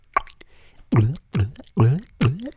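A bottle is opened and a drink is poured close to the microphone, giving a series of four loud, distinct glugging plops with short pauses between them after a brief initial click.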